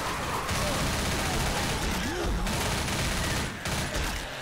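Dense video-game gunfire aimed at a tank, loud and continuous with rapid overlapping shots and booms, with a voice speaking faintly underneath.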